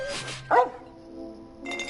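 A dog in the Lego Harry Potter video game gives a single loud close bark, with a short game tone and chime around it and then a faint hum.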